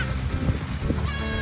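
Backyard goats bleating, several overlapping wavering calls close by in quick succession over a short burst.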